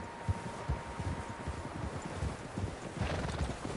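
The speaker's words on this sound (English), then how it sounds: "Horses, quite a few of them." Several horses' hooves clip-clop steadily in Red Dead Redemption 2, a rhythmic thudding gait at moderate distance with rustling and wind in the background.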